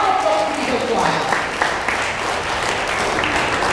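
A church congregation at a Wednesday group gathering in Hong Kong applauds with a steady, dense wash of clapping that holds throughout, with voices mixed in.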